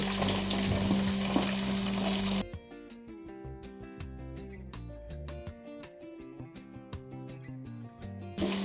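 Chopped onions for chilli chicken hit hot oil with a loud, hissing sizzle for about two seconds. Music follows, and the sizzle returns briefly at the end.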